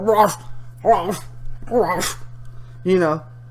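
A loud dog barks close by in four separate bursts with short gaps between them. A steady low hum runs underneath the whole time.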